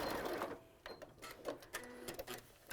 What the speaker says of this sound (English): I'm just sewing really close to the edge,